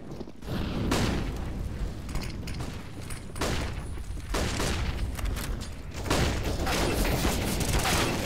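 Counter-Strike gunfire rattles in several loud bursts of rapid shots with brief pauses between volleys, mixed with mechanical clicks and booming impacts.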